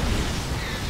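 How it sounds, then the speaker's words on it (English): A photon cannon blowing up in a StarCraft II match, a brief dense rumbling explosion that fills the whole moment, loud and close with no voices over it. "Defensive cannon going down"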